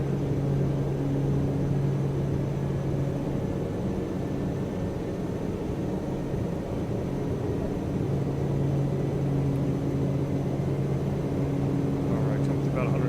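Beech Starship turboprop engines at takeoff power, a loud, steady droning roar with strong tonal hum that holds for the whole stretch, close and continuous, with faint cockpit voices beneath.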